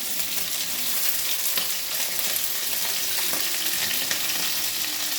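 Ivy gourd, green chili and onion fry in a pan with a loud, continuous crackling sizzle and faint stirring scrapes, close up and without any talk.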